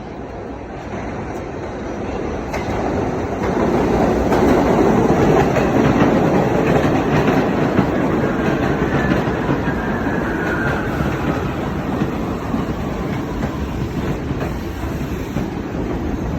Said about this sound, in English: You see a Q train coming over the side here?